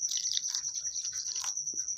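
Water trickles and drips into semolina batter for a vegetable semolina dish, a thin steady pour with small splashy drips, close and fairly quiet, with no talking.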